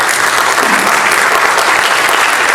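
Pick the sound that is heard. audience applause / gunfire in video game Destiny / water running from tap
audience applause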